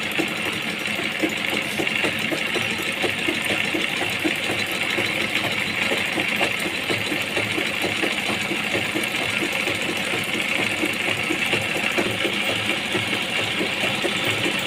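A sewing machine runs steadily, stitching a picot edge along a saree, with a continuous mechanical hum and rapid needle chatter at an even pace, close and fairly loud, with no talking.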